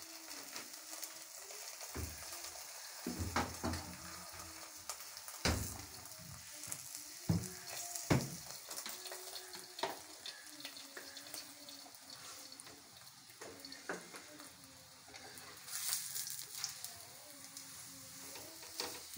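A paratha fries in desi ghee for breakfast, a steady close sizzle broken by sharp pops and scraping stirs, with faint birdsong in the background and no talk.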